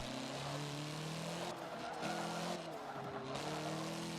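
Tires squeal as a car skids through corners in the racing game Forza 7, a showroom rally event: a continuous engine drone with wavering screeches rising and falling over several seconds, no talk.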